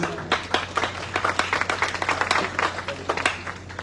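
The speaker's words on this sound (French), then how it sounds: "Donc nous applaudissons son arrivée" An audience at a school's centenary ceremony applauds the arrival of the centenary committee president, with dense, continuous clapping close by that holds steady throughout.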